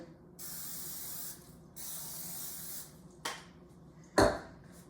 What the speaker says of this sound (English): spray it with some non-stick cooking spray